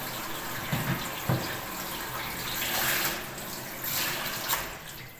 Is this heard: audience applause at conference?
no